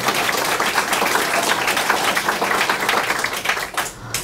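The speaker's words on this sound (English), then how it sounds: "Let's give them a round of applause." At a Nisei Veterans Memorial Center event, an audience claps for the volunteers in a dense, steady round of applause that holds for a few seconds before thinning out at the end.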